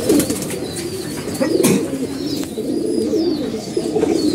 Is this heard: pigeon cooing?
yes